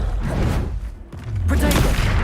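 In Hogwarts Legacy, a Confringo fire spell is cast with a dense whooshing blast and booming impact, loud and continuous, with a short dip before a second surge of explosive game effects.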